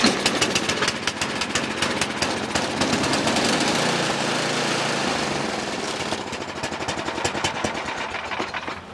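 An MTD triple-belted 1028 snowblower engine runs loud and close, a rough, fast mechanical chatter that holds steady throughout with a slight rise and settle in the middle.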